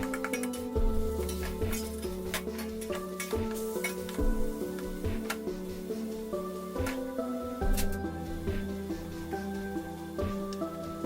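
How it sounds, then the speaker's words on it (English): Minced beef sizzles steadily in a large pot over high heat, with a spoon stirring and scraping against the metal throughout, while soft background music plays. "Add the beef to the large pot and cook on the high cooker."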